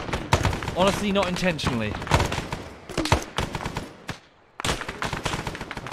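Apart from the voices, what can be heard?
rifle firing tracer rounds in the video game Arma 3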